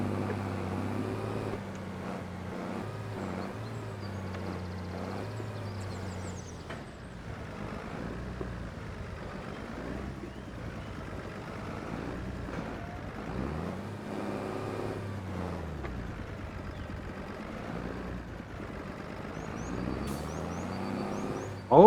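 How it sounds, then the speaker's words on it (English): A small tractor engine driving in a hay-farming video game, a continuous low motor drone whose pitch rises and falls as it revs and steers, running steadily for about twenty seconds with no talking. "Come on, little tractor, you can do it."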